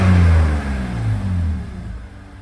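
BMW E46 330ci engine revved while stationary, a loud close rumble with rising and falling rev tones that ease off toward the end, no voices.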